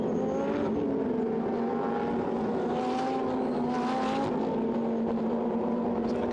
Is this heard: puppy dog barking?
no